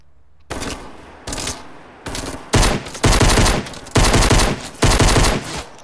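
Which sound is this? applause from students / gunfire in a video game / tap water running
gunfire in a video game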